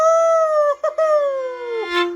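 A singer's voice imitates a coyote howl in a single long, sliding cry that dips and breaks briefly midway before falling away, close and clear with no accompaniment.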